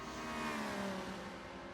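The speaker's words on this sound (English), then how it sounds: "You can hear him, he's right behind the Ferrari." Race car engine in a multiclass sim racing game at Watkins Glen, a loud continuous whine that climbs and shifts as the car runs just behind a Ferrari, with no voices over it.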